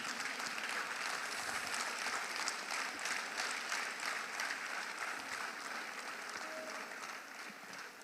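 An audience at a stakeholder forum applauds, a steady wash of clapping that holds at an even level for the whole stretch and fades slightly toward the end.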